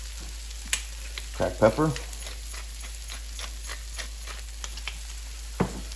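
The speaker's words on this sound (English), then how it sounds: "And we'll begin sauteing these." Assorted mushrooms sauté in a pan with a little salt, giving a soft, steady sizzle while a person talks over it and a few light clinks sound near the start and end.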